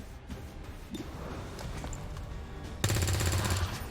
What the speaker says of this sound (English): just take a bunch of shots at him